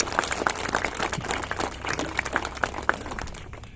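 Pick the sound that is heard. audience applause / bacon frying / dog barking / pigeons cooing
audience applause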